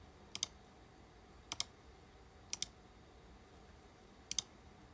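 Sharp double clicks repeat at irregular intervals, four crisp paired taps standing out against a quiet background.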